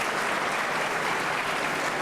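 Full, steady applause from a large audience at a Diwali gala honoring the event co-chairs, dense and sustained throughout without a break.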